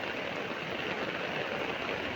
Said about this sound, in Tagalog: Biglang bumuhos yung malakas na ulan